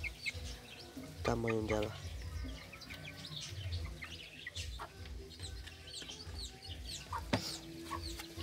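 Chickens cluck and chirp in a backyard coop, including a young chick and a large Indian Giant hen, with scattered close calls and soft peeping under a person talking.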